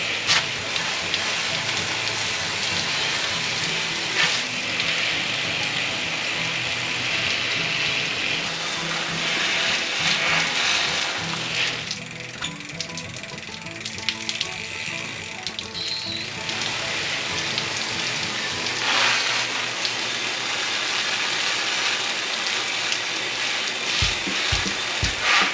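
A hose sprays water over a mountain bike chain during cleaning, a continuous close hiss of spray and splashing that varies slightly in intensity throughout.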